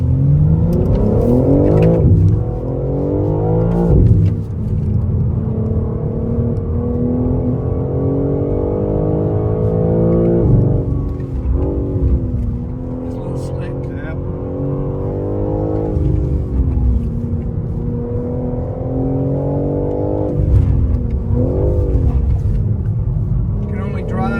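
A BMW G80 M3 accelerating hard on BMW's Spartanburg factory track, its engine note climbing and dropping through repeated rev sweeps for over twenty seconds, loud and close, with people talking over it inside the car.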